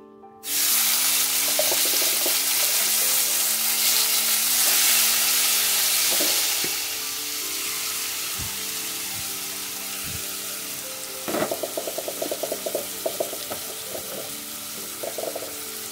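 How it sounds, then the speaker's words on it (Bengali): Snake gourd hits hot oil in a wok with a loud burst of sizzling that settles into steady frying, with occasional clinks and scraping of a utensil in the pan. "এখন আমি এটা কড়াইয়ে তেলের মধ্যে দিয়ে নেব।"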